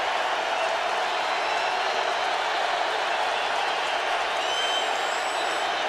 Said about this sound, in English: Crowd raises its volume.